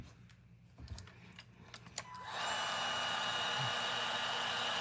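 An electric heat gun, used to heat parts while repairing a Novarossi-engined RC car, switches on after a few light clicks and taps and then blows a loud, steady rush of hot air.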